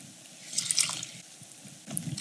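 Water being poured into old-fashioned oats while making a vegan breakfast, a soft, faint liquid splash and trickle in a quiet kitchen.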